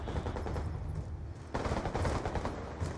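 Rapid gunfire from a weapon in Black Ops 2 Gun Game mode: a dense, loud burst of shots, a brief lull, then another sustained volley.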